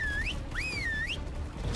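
Whistle command in ARK: Survival Evolved, a rising and falling whistled tone repeated twice in quick succession over a low background rumble, with no talk.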